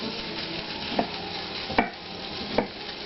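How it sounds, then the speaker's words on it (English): Peppers frying in a pan for hot Italian sausage and peppers, a steady close sizzle with three sharp clinks or stirring knocks spaced about a second apart, no talking. "And you just fry your peppers up in the pan."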